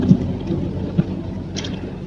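Loud thunder rolls in a deep, continuous low rumble with a blustery, wind-like roar and a couple of dull thumps, steady throughout with no voices.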